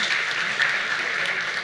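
Soft, distant audience applause for conference speakers at a talk on knowledge graphs, a short even patter without distinct claps.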